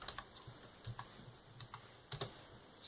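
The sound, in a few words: typing on a computer keyboard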